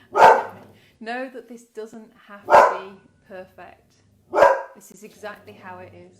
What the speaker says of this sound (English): apologies for the dog again